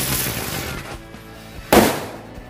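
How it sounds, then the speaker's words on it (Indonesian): Ground Bloom Happy Flower firecracker spinning on the ground, a fizzing hiss that fades, then a single sharp loud burst near the end. "kita nyalain mercon ground blown happy flower. Ini bisa berputar dan ada beledosnya guys"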